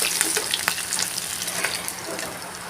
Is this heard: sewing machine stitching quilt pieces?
no